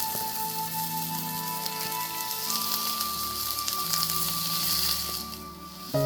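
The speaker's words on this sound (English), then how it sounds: "add either olive oil or butter into the pan, and when it's hot enough, add the diced onion to saute" Diced onion sautéing in hot olive oil or butter in a frying pan over medium heat, a steady close sizzle and crackle with faint tonal kitchen hum underneath, no talking.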